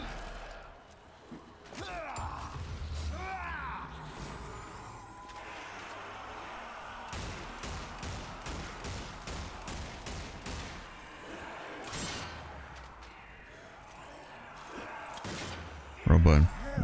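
Gunfire in Zombie Army 4: Dead War, a run of spaced, loud shots in the middle of a stretch of game ambience and effects, with a person talking now and then.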